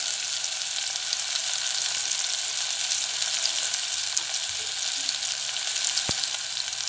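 Tomato and onion fry in a pan with an even, steady hiss of sizzling throughout, one brief clink near the end, no voices.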